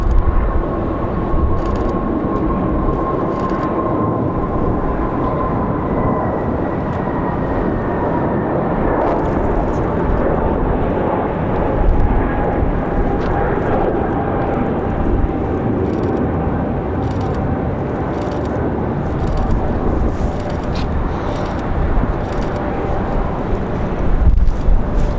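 A jet lands at Raleigh-Durham International Airport on a windy day, heard as a loud, sustained roar with a slowly falling whine across the whole stretch, under gusty wind noise.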